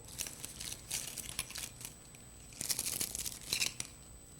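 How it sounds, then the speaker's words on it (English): Soft crinkling and rasping of ribbon pulled along a scissor blade, in a few quiet, uneven bursts. "take my scissors and curl your ribbon"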